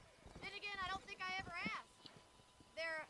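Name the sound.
horse hooves herding cattle in video game Red Dead Redemption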